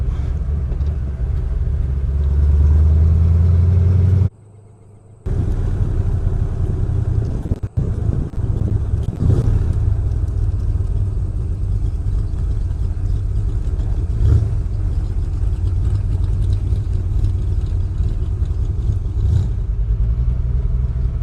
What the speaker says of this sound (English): Where do you want me to park it, Mike? Just in front of the garage there